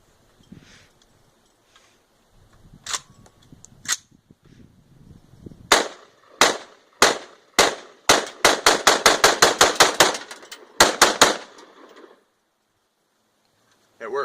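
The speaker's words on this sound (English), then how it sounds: "That is semi-automatic" Semi-automatic gun firing test rounds on its first time loaded, a run of sharp, loud shots, first spaced apart and then in a rapid string of about a dozen, with a short pause and a couple more at the end, faint talk before.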